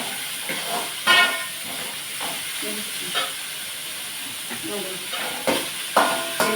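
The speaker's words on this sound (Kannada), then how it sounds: "ಇದು ಚೆನ್ನಾಗಿ ಎಣ್ಣೆಗೆ ಫ್ರೈ ಆಗಬೇಕು ಇದನ್ನು ಹೈ ಫ್ಲೇಮಲ್ಲಿ ಇಟ್ಕೊಂಡೇ ನಾವು ನೂಡಲ್ಸನ್ನು ಮಾಡ್ಕೋಬೇಕಾಗತ್ತೆ" Noodles with vegetables fry in oil over a high flame, a steady close sizzle broken by several sharp scraping stirs of a utensil against the pan.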